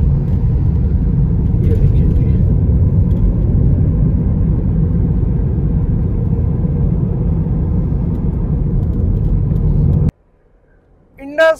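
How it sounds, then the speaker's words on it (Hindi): A car drives along the Indus Highway in Pakistan, its engine and road noise forming a loud, steady rumble for about ten seconds before cutting off, followed by a brief quiet stretch with a short sound at the end. "इंडस हाईवे पे गाड़ी चलाना भी अपना एक अलग ही अंदाज है"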